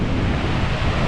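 Big ocean waves and wind on a cold, drizzly, overcast coast, a loud, dense, continuous roar of surf and gusts filling the whole moment, with no voices.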